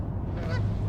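Waterfowl at an urban pond give a single short nasal honk over a steady low background rumble.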